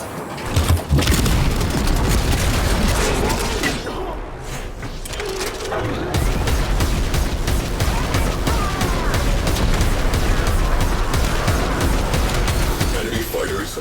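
Heavy video game combat rumbles with repeated gunshots, booms and slamming impacts, loud and nearly continuous apart from a brief lull, with a voice talking over the action at times.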